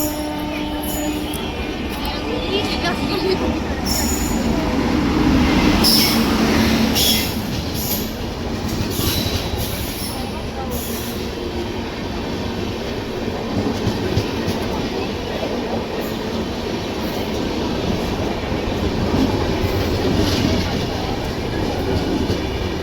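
Pallavan Superfast Express, train number 12605, heard from on board while running: a loud continuous rumble of wheels on rails with rhythmic clatter, metallic squeals and rattling carriage noise throughout, a voice briefly audible at times.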